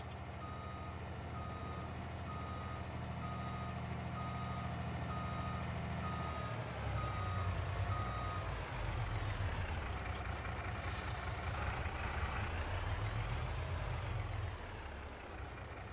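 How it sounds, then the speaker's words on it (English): A GMC dump truck in Farming Simulator 22 idles steadily while its reversing beeper pips in a regular, continuous rhythm, with an air-brake hiss partway through and no talk. "Tailgating with a new dump truck is quite easy with that new tailgate."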